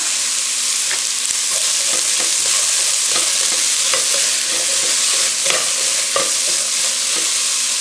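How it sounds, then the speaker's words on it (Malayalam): Sliced onions and salt sauté in a hot pan for a Ramadan iftar snack, giving a loud, steady sizzle. Occasional light clicks come from stirring, with no talking. "സവാള ഇട്ടിട്ട് നന്നായി ഒന്ന് വഴറ്റി കൊടുക്കണം."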